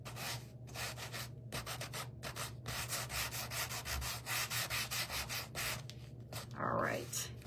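Hand sanding of a small wooden snowman hat craft piece produces a steady run of close, rhythmic scratchy rubbing strokes with only brief pauses between passes.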